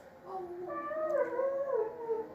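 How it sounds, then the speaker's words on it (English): A dog gives a drawn-out, wavering howl that slides into a whimpering whine, moderately close and rising through the middle. "Can you hear the dog?"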